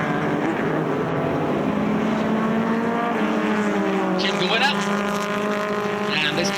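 Vintage race cars, a Datsun and a Lotus, race at Mid-Ohio with loud, close engine drones whose pitch shifts as they pass, over a continuous broadcast commentary voice.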